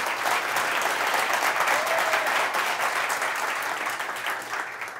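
A studio audience at a Turkish comedy show claps in sustained, full applause, loud and even throughout and easing only slightly toward the close.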